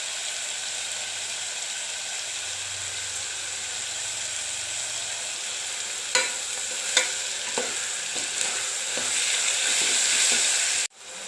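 Chopped tomatoes and greens sauté in a pan for an eggplant and drumstick gravy, with a steady sizzle throughout. A few sharp clicks of a spoon stirring come near the end.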